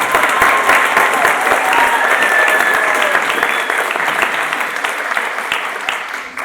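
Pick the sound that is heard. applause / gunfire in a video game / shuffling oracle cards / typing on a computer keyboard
applause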